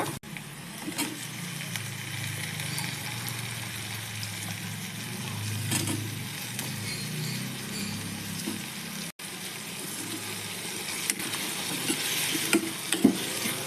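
Boiled eggplant sizzles softly in a pan of hot onions as it is fried and stirred for an eggplant palya, a low continuous hiss with occasional faint scrapes and no voices.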